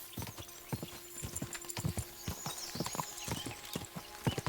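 A horse galloping in the video game Kingdom Come: Deliverance 2, steady rapid clip-clop hoofbeats close by and continuous throughout, with a faint whinny-like tone underneath.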